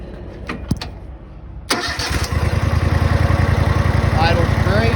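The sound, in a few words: Exmark Lazer Z mower engine starting up and idling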